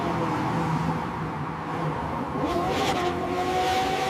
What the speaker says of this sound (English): Made a car go by.